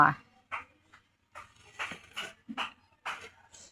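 Dogs whimper and whine while waiting for food at home, several short high whines in quick, broken bursts with brief gaps, close by and fairly soft.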